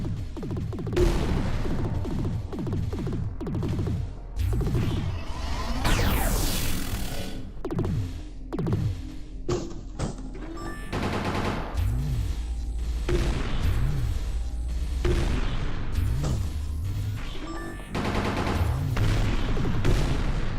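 Turrets firing in the video game Vortica, a loud, dense stream of gunfire with repeated bursts and crashing impacts running throughout, no talk over it.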